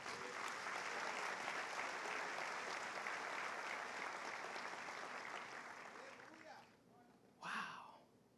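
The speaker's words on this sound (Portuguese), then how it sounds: "Dê um aplauso ao Senhor Jesus." A church congregation applauds Jesus with steady, dense clapping that carries on for several seconds, then fades toward silence before a brief, loud exclamation cuts in.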